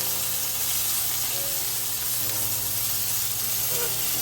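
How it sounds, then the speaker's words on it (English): Butter sizzles hard in a hot pan beside charred, blistered asparagus, a steady close hiss filling the whole stretch with a few faint clinks beneath it. "Now I'm just going to add 1 tablespoon of butter."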